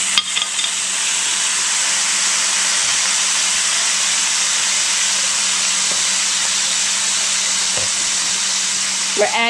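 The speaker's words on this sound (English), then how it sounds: "We're adding now the remaining drippings from the roasting pan." Drippings from a beef roasting pan hit a hot pan on the stove and hiss loudly and steadily throughout, with a few faint clicks.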